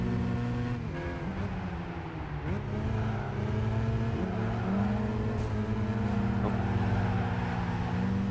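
Classic race cars in Gran Turismo 5 roar through gear changes as engines rev and drop, a steady mechanical whine over the pack, with no clear crash impact standing out.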